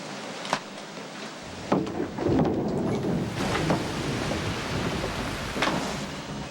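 A thunderstorm rumbles over steady, hissing rain, with a sharp crack early on and rolling thunder swelling and fading across the whole stretch.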